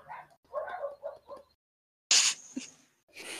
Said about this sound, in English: As soon as you said that, they started barking again.